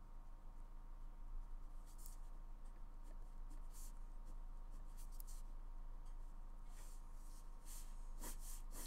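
A pencil sketches construction lines on paper for an oblique isometric product drawing, making soft, faint scratchy strokes in short bursts over a steady low background hum.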